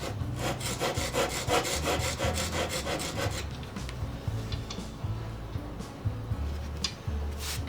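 A plane blade honed on sandpaper with a roller guide, close rhythmic rasping strokes repeating rapidly at first, then slower, quieter scrapes and scattered ticks.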